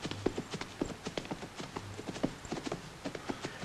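Horse hooves clip-clop in a steady walking rhythm, fairly quiet, with a low background hum.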